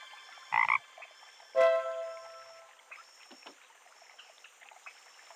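Cartoon frog croaking in a children's story game about a frog's life cycle: two short, bright croaks followed by a watery plop and a trickling splash, with softer ribbits and drips after.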